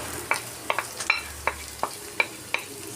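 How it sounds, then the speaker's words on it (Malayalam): Onion, ginger and garlic being sautéed in a pan, with a spatula scraping and tapping against it in a steady series of sharp, close strokes over a quiet background. "സവാള ഒന്ന് നല്ലോണം ഒന്ന് വഴറ്റിയെടുക്കാം."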